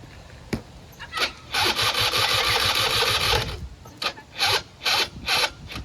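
The starter on a Vento Triton R4 scooter cranks but fails to start the engine, with a sustained whirring grind followed by several short, separate cranking bursts, close and fairly loud.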